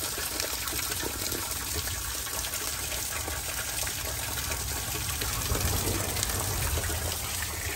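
Well water pours from two pipes coming up from underground, a loud continuous gushing rush that stays steady and close throughout, with no talking.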